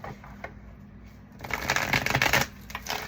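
A deck of tarot cards is shuffled up close, a quiet handling sound followed by a loud, rapid riffle of cards lasting about a second.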